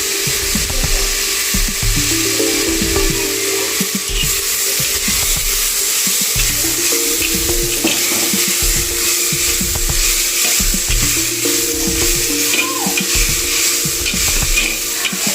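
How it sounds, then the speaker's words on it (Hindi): Peas fry in a pan for a homemade dhaba-style gravy, a continuous sizzle with repeated stirring scrapes in a steady rhythm, close and with no voices. "यहाँ पे थोड़ा सा मटर को फ्राई कर लेना है।"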